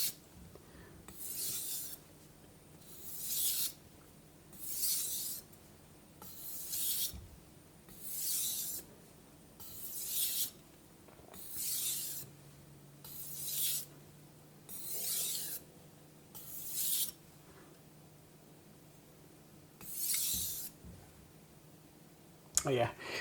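A knife, its edge chipped, is stroked across a Naniwa whetstone, about a dozen evenly paced rasping passes each lasting a second or so, with brief pauses between them and faint background hum.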